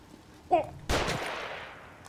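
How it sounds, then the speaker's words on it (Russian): Gunfire aimed at the player in the horror game The Evil Within: a sharp loud shot followed by a heavier blast with a long decaying echo, with no talk over it. "Стреляют, Йось. По мне стреляют, Йось."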